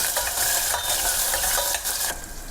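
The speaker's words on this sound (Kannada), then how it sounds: "ಮತ್ತು 1 ಹಸಿಮೆಣಸಿನ್ಕಾಯಿ, ಉದ್ದುದ್ದಾಗಿ ಕಟ್ ಮಾಡ್ಕೊಂಡಿರೋಂಥ ಆನಿಯನ್ ಹಾಕಿ ಚೆನ್ನಾಗಿ ಫ್ರೈ ಮಾಡ್ಕೊಳ್ಳಿ" Sliced onions and green chilli fry in a pan with a dense, steady sizzle, broken by occasional stirring scrapes and clinks of a spoon against the metal.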